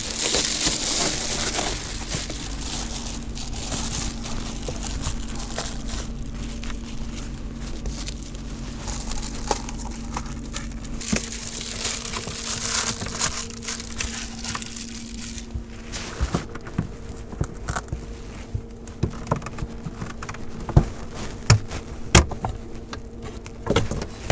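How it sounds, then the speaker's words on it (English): Reflectix reflective foil insulation crinkles and crackles while being fitted in a truck camper for winter, a continuous rustling with scattered sharper crunches and taps near the end, close by, with a faint steady hum underneath. "now that it's winter time, the Reflectix has got to go up."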